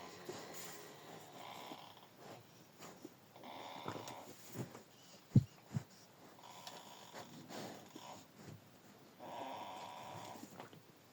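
A goat snores softly in its sleep, with quiet rasping breaths repeating at a slow, irregular rhythm. A couple of sharper snorts stand out midway. The sound is close and faint.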